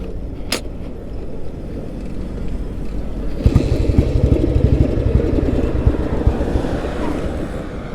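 A vintage Royal Enfield Bullet motorcycle engine, running on choke, thumps at a steady low rhythm, growing louder and busier partway through as the bike pulls away, with wind noise over it.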